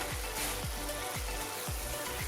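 Carrot halwa sizzles and bubbles in a pan while it is stirred, a steady close frying hiss with a low, rhythmic scrape repeating roughly every half second.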